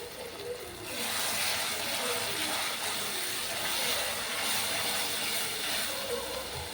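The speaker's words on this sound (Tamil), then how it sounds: "இப்போ டொமேட்டோ ஜூஸை ஆட் பண்ணிக்கிறேன்." Tomato juice poured into a pan of fried onion and ginger garlic paste for chicken tikka masala, a steady loud hissing sizzle that starts quiet and jumps up within the first second, then holds evenly.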